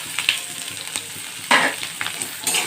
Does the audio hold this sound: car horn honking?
no